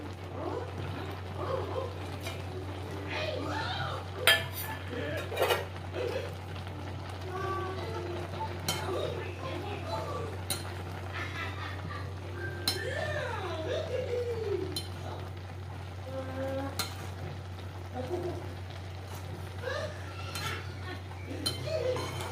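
Dry fruits tipped into carrot halwa in a pan and stirred, with spoon scrapes and clinks against the metal pan scattered throughout, over a steady low hum, while a person talks intermittently.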